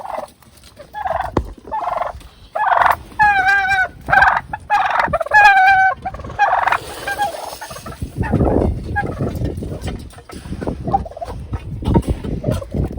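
Several turkeys gobble in loud, rapid warbling bursts close by, followed by shuffling and rustling movement with a few more distant gobbles.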